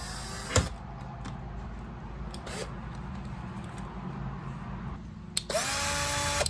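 A quiet room with a few knocks and clicks, then a power drill whirs up to speed and runs steadily near the end, drilling a guide hole in wood.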